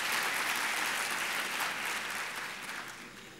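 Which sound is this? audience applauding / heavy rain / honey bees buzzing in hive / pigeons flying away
audience applauding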